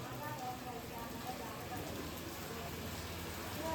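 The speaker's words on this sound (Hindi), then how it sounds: "मम्मी भयंकर बारिश हो रही है।" Heavy rain falls with big drops, a dense, steady hiss of pattering that stays constant and moderately distant throughout, with a voice speaking over it.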